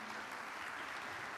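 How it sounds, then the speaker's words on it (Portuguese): Church congregation applauding during a sermon, a dense, even roar of clapping from many people, heard briefly and at a distance. "Aplauda o Evangelho de Jesus."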